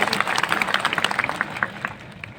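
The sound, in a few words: audience applause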